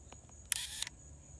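A Yashica film camera in very nice condition fires its shutter once, a crisp mechanical click-and-whirr lasting about a third of a second, heard close and fairly quiet against a faint steady hum, with no talking.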